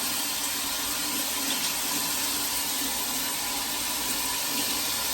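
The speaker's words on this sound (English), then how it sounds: "Let's take the shower, boys." A hotel shower runs in a steady, loud, unbroken rush of spraying water that fills the whole stretch with constant broadband noise.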